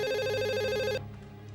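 A telephone rings with a steady electronic tone, loud and close, then cuts off abruptly partway through, leaving a faint room hush.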